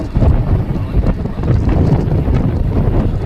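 Wind buffets the microphone atop a hill overlooking the Sabarmati river near the Brahmani Mata temple, a loud continuous rushing roar for a few seconds with no voices.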